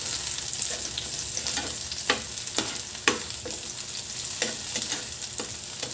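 Chopped onions frying in a pan for squid adobo give a continuous close hiss and crackle, with scattered sharper pops and clicks from stirring, and no voices.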